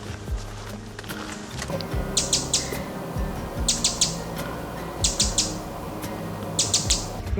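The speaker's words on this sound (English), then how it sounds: "Couple of winter wrens calling over there." Winter wrens call in woodland, a few short chirping bursts repeated at intervals, fairly distant, over a low background of footsteps and rustling.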